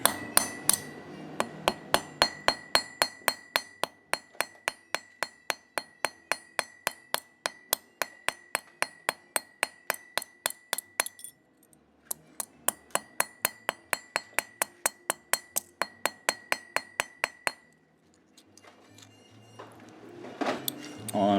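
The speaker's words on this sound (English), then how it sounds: "And then with the ball of the hammer," A ball-peen hammer taps rapidly and steadily on a small piece of round copper wire for a steampunk bracelet, ringing metallic strikes in two long runs separated by a brief pause, with clattering handling noise at the end.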